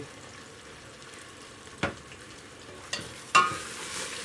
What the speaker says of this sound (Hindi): अब इसको भूनेंगे अच्छी तरह।